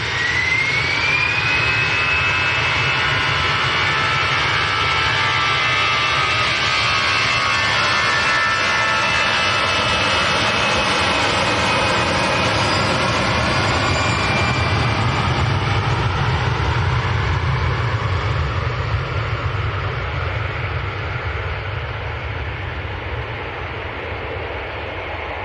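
An EasyJet jet airliner departing Manchester Airport for Alicante thunders close by with a loud, sustained engine roar and a rising then sliding whine, slowly fading toward the end, no voices present.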